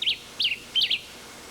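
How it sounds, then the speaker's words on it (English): A black-whiskered vireo calls three times in a quick, evenly spaced series of bright, slurred chirps, close and clear over a quiet outdoor background. "The black-whiskered vireo is another bird that is easy to hear,"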